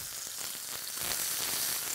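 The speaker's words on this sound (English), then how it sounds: "I love that sizzle. I hope you can pick that up on camera" Thick pork chops, about an inch thick, sizzle loudly and steadily on a gas-fired disc grill, a dense continuous crackle with no talking over it.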